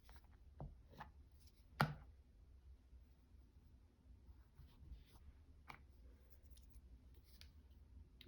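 Scissors snip a fabric strip at a crafting table, giving a few faint, sparse, crisp cuts with long quiet gaps between them, close but soft.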